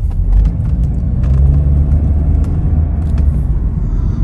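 A car engine rumbles low and steady up close as the car stops, with faint clicks and knocks over the idle, no voices.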